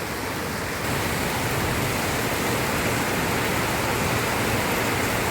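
Heavy rain pouring down outside while a pet cat watches, a dense, steady roar of falling water, loud and continuous with no voices.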